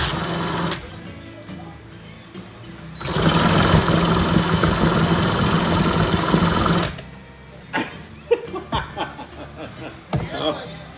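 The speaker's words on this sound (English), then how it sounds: "I think there's something wrong with that chainsaw you got there." A faulty Stihl 017 chainsaw engine roars at high revs for about four seconds, buzzy and close, with people talking and chuckling before and after.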